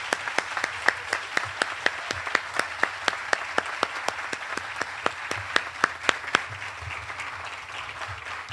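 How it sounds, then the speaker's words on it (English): Audience applause at an outdoor school move-up ceremony under a tent, steady crowd clapping with crisp individual claps standing out, moderately loud and sustained throughout without talk. "Please enjoy another look and round of applause for our fantastic class of 2029."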